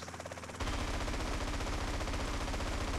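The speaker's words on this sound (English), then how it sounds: "That's the sound of the gunfight." Dense, rapid machine-gun fire in the video game GTA San Andreas, rattling continuously at close range, loud and unbroken after a brief lead-in.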